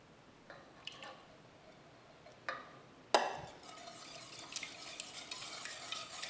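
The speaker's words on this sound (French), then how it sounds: "Je vais le mélanger pour casser les jaunes d'œufs" Four whole eggs being stirred into a cooked syrup to break the yolks for a lemon cream, with a few soft taps and then a wet, continuous whisking swish, quiet and close with no talk.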